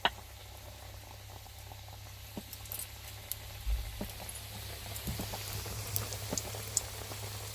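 Nimki snacks frying in hot oil, a steady soft bubbling hiss with scattered light crackles and pops, close and fairly quiet, with no voices.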